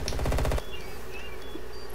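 Automatic gunfire in Call of Duty: Black Ops Cold War, a loud rapid burst of shots lasting about half a second, followed by quieter game ambience.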